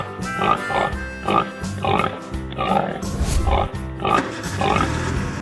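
A pig in a 3D animal video game grunting and oinking, a loud close series of rhythmic snorting grunts repeating steadily with no talk over them.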